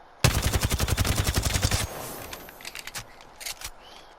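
A Volt SMG fires one fast, loud, sustained automatic burst in the Apex Legends video game, about a dozen sharp evenly spaced shots, followed by quieter clicks and game sound effects.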